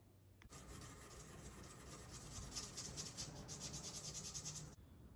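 Steady, close rasping strokes of sandpaper rubbed back and forth over a knife blade by hand, continuous for several seconds and then stopping abruptly.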